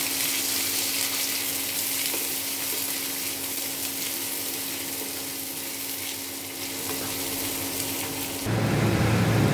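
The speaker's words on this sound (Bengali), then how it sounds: "এবারে কাঁচা পেঁয়াজগুলো দিয়ে দিলাম, কাঁচা লঙ্কাগুলো দিয়ে দিলাম, ভালো করে ভেজে নেব।" Raw onions and green chillies fry in oil in a pan with a dense, steady sizzle close by, and a brief louder rush of frying near the end.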